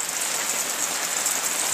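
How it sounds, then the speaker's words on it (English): Heavy rain pours down on a Jeep parked with its hood open, a steady, dense hiss of drops drumming on the body that stays loud and unbroken throughout, with no voices. "And we're pouring rain."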